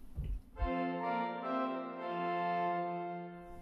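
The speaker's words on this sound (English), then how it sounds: "4 foot is an octave higher, which sounds like this." A single 4-foot stop on a Rieger pipe organ, pitched an octave above normal, sounds a bright sustained tone with a slight shift midway, entering after a brief low rumble and fading at the end, with no talking.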